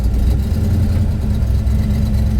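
A 1971 Monte Carlo V8 idles after a cold start with a deep, lumpy rumble from a bumpy cam, steady and close, with a slight uneven lope throughout and no voices.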